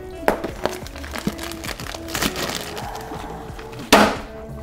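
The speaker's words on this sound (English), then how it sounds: "That was the glass top falling down." A glass aquarium lid falls with a loud, sharp crash near the end, after a few lighter knocks and clatters from the tank setup.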